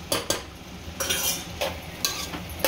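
A spoon stirs yellow round cucumber curry cooking in oil in a pan. It makes several sharp, close scraping clacks at an irregular rhythm over a soft sizzle.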